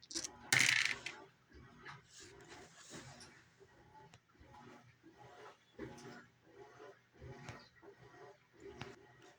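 Dice for a Bolt Action World War II tabletop wargame, two six-sided dice and a scatter die, clatter loudly onto a table in one sharp burst, followed by softer intermittent tapping and handling noises.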